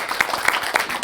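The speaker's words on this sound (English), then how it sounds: "a big round of applause" Brief burst of audience applause at a book launch, a short patter of clapping hands in a room.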